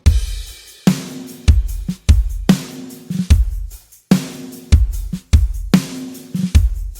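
A big, punchy drum kit pounds out a steady groove, heavy kick and booming snare hits repeating in a regular rhythm, loud and close.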